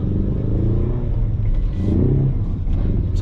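A 2021 Ford Mustang with a 2.3 liter engine and six-speed manual hums and revs steadily from inside the car, a continuous close rumble with slight swells as the sensitive throttle is worked.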